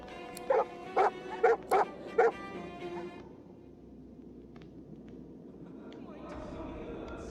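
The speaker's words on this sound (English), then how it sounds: "Holy hellhounds. Those dogs sound out for blood." Hellhounds in the fantasy role-playing game Divinity: Original Sin II give five sharp, evenly spaced barks, loud and close, then fall away into a quieter background murmur.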